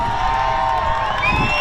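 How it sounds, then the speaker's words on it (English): A loud, dense crowd cheering and shouting at a high school football game between Westview and Grand Island, with whoops rising toward the end. "This crowd is getting hype"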